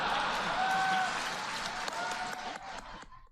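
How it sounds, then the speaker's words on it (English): A crowd claps and cheers in a sustained burst of applause that gradually thins out and fades toward the end. "Thanks so much for that cheer, Carrie"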